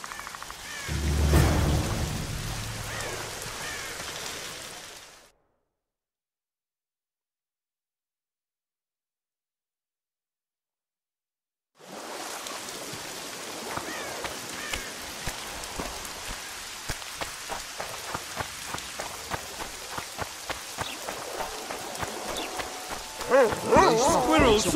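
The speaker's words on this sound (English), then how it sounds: "The squirrel sorcerer summoned this rain." Rain falls in The Witcher 2 video game, a steady hiss of drops pattering on surfaces that cuts out into silence for several seconds, then returns with sharper scattered drips and occasional louder splashes.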